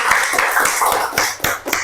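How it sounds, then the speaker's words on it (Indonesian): Children in a primary-school classroom clap together for a group of classmates, a brisk, fairly loud run of overlapping claps with a steady rhythm that briefly thins out before picking up again. "Tepuk tangan juga untuk kelompok 2 yang sudah berani maju"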